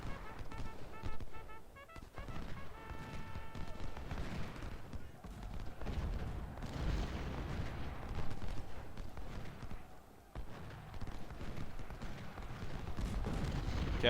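Cannon and musket fire from a Civil War battle in Ultimate General: Civil War, with dense, continuous booms and crackling volleys throughout, under a steady roar of battle.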